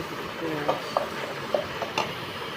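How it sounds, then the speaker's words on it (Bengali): Masala being stirred and fried for a river-fish biryani, with a spoon scraping and clinking against the pot at irregular intervals over a steady close sizzle. "মশলাটা ভালো করে কষে মাছ দিয়ে দিচ্ছি। চাউল ভাজতেছি।"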